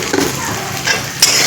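Potatoes and spices get stirred in a frying pan for an egg curry, a brief close sizzle with scraping utensil strokes against the pan.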